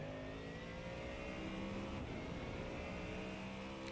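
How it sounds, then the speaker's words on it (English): A Ford Mustang race car laps the Chicago street course in a USRA round, recorded from on board. The engine revs and pulls hard, loud and continuous with no gaps. "Let's just take a ride on board in this Mustang, and we'll see if we can take a lap around Chicago"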